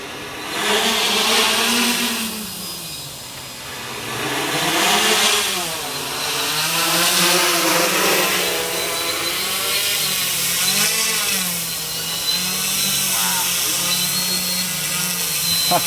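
A Hexa XL hexacopter with RC Tiger motors descends slowly, its motors giving a loud, steady, buzzing whine that rises and falls in pitch as the throttle shifts, with no pause throughout.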